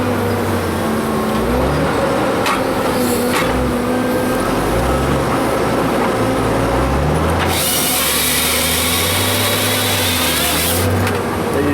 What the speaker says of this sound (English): Cut that limb out by turning the head crossways like that and saw it out